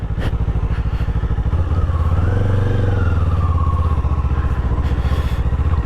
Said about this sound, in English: this is my wife's motorcycle